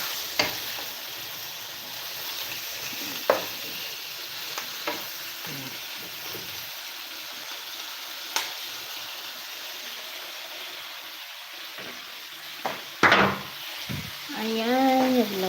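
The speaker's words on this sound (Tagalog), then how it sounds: "Ayan, nagluto na tayo ng chicken curry. Ihalo natin." Chicken curry bubbles and sizzles in a pot while a spoon stirs it, giving a steady low simmering hiss broken by occasional sharp clinks and scrapes against the pot.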